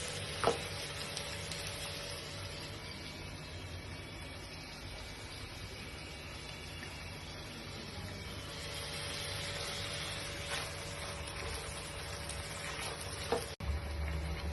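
Vegetables fry in a pan for a chicken samosa filling, giving a continuous hissing sizzle at steady level with occasional faint stirring clicks and a brief scrape near the end.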